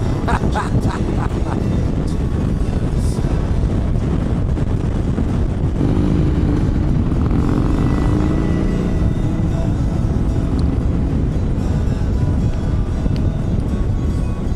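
A Harley Davidson motorcycle cruises on the highway with the engine opened up, a constant loud rumbling drone buried in heavy wind buffeting, with a faint voice underneath.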